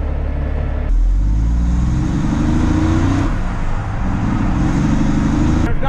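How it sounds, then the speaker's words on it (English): A work vehicle hauling granite flagstone and steps drives back to the stone shop, a loud steady engine drone and road rumble from inside, with a shift in pitch partway through. "We've got about a 30-minute drive back to the shop where we unload."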